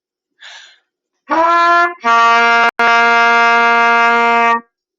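A trumpet plays a low open C, first a short attempt then a longer held tone after a brief break, clear and close with no talking.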